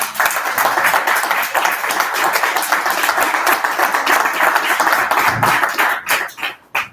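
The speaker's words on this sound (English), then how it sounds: "let's give our executive panel a round of applause." An audience at a business development panel applauds the executive panelists, loud dense clapping sustained for about six seconds before tapering off into scattered claps.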